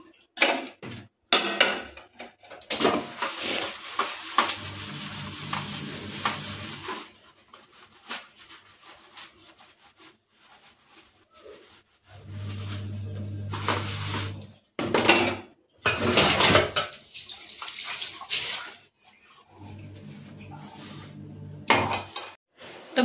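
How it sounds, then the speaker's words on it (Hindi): Dishes, pots and utensils being washed by hand in a home kitchen, with repeated clinks, scrapes and rubbing of metal cookware in bursts separated by quieter pauses, close up and with no talking. "मैंने सारे बर्तन यहाँ पर धुल के रख दिए हैं"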